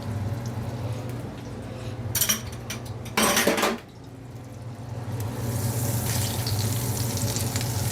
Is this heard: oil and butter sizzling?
yes